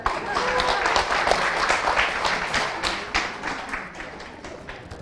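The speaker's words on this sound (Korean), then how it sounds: "박수 한번 주세요." A small audience claps at a Korean eco-products business presentation, an uneven patter of nearby hand claps with a few thuds.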